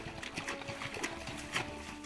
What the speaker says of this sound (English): we get to go horse riding.